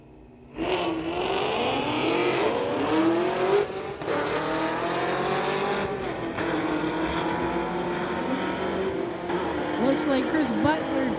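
Two Chevy Camaros, one a 2015 model, drag racing down a street-legal strip, their engines roaring loud and sustained with rising pitch as they accelerate, under an announcer's continuous commentary.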